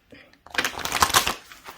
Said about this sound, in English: I'm going to shuffle once more.